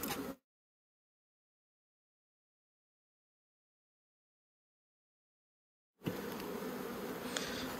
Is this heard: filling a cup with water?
no